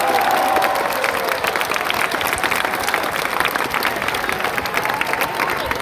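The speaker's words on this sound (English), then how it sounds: "You may clap for him." An audience at an evening speaking event applauds steadily, dense clapping from a crowd filling the room at an even level throughout.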